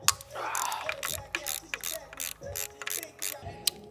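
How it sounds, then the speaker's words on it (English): A ratchet clicks in quick bursts while parts are unbolted from an old engine untouched for over thirty years, the ratcheting loud and close with short pauses between strokes. "I'm just gonna start unbolting stuff and see what happens."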